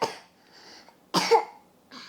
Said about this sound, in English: that's like the fakest cough I've ever heard.